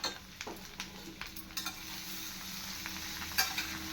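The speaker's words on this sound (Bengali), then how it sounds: "এই নুন হলুদ দিয়ে আলু ভালো করে ভেজে নিচ্ছি।" Potatoes frying in a pan with salt and turmeric, giving a soft steady sizzle with a few brief scrapes of stirring at close range and no voices.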